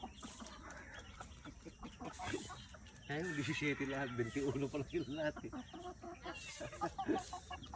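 Hens cluck and chatter close by while people talk over them, with a steady background hum throughout.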